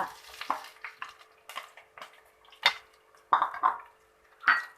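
Onion with green chilli, ginger and curry leaves is sautéed in hot coconut oil with mustard seeds, making a soft sizzle broken by scattered scraping stirs and a few louder clattering strokes against the pan.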